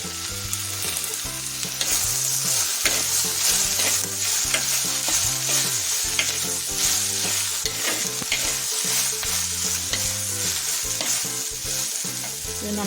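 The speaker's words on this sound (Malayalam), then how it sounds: "ഇനി ഈ വെണ്ടയ്ക്കയും ഇതിൻ്റെ കൂടെ ഇളക്കി നമുക്കൊന്ന് വഴറ്റിയെടുക്കാം." Okra being stirred and sautéed in a pan for a coconut-milk curry, with a steady loud sizzle and rhythmic scraping strokes of a spoon repeating throughout, close up with no talking.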